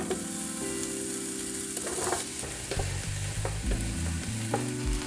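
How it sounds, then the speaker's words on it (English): Onions sauté in a little olive oil on a stovetop for a keto low-carb lasagna, giving a steady, soft sizzle under background music with occasional faint stirring ticks. "saute the onions."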